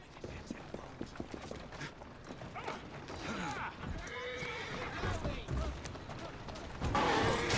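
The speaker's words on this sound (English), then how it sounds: "Who's a good horse?" A horse in Assassin's Creed Syndicate whinnies and clip-clops near a carriage, with creaking mechanisms and other game sounds around it and a voice talking over parts of it.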